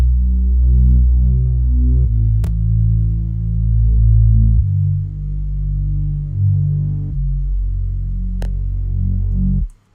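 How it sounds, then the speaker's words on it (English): Bass track with an EQ preset that trims the deepest lows, playing deep sustained notes that throb and shift in pitch for ten seconds, alone with no voices. "And here's what the bass sounds like."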